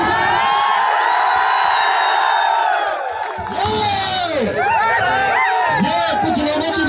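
A large crowd cheers and shouts at a UP Police felicitation ceremony, loud sustained whoops and yells rising and falling close by, with excited voices mixed in throughout.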